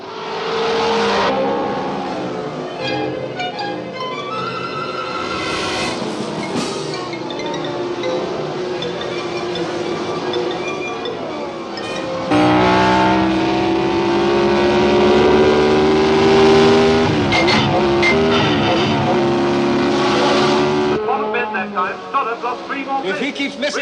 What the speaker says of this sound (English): If he keeps missing shifts like that, the car will never last.